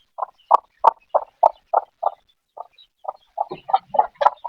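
A hen clucks close by near her chicks, a run of evenly spaced short clucks that speed up and grow busier toward the end, with no talk.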